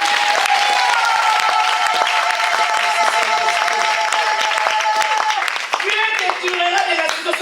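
Congregation at a church service in Paris applauding and cheering steadily, a dense, loud wash of many hands clapping with raised voices throughout, easing slightly toward the end.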